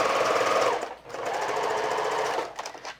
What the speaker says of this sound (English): I do 2 rows of basting stitches, and I use the longest stitch that I have available on my sewing machine for this